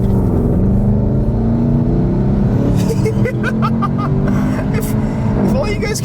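A turbocharged Mitsubishi Evo X accelerates hard in sport mode, its engine rising in pitch with a loud interior drone and turbo whoosh, while people talk over it.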